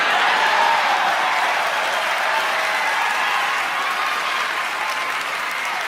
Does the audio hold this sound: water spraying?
no